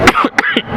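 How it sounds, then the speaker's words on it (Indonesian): A man briefly coughs and clears his throat during a religious lecture, three short close bursts in under a second. "Mohon maaf saya batuk ya."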